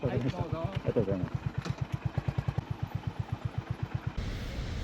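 A motorcycle engine idles with a regular, evenly pulsing thump as the rider pulls in to park, briefly overlapped by talk at the start and ending abruptly.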